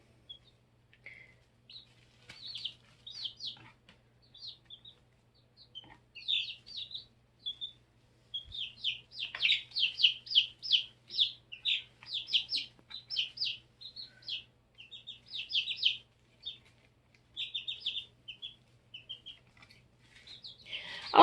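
Continuous high-pitched chirping from many baby chicks about three weeks old, busy bursts of rapid peeps rising and falling, fairly close, with brief quieter gaps.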